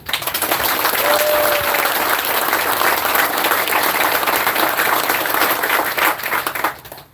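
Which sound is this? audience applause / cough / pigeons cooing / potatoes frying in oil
audience applause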